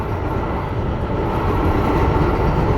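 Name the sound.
MBTA Green Line train arriving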